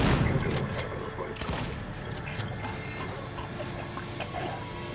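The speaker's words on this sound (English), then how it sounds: "Pipe bomb. Pipe bomb." A pipe bomb goes off in the Alien: Isolation game, a loud, dense blast of crackling, rattling debris with sharp repeated snaps, staying fairly steady in level across the whole stretch with no one talking.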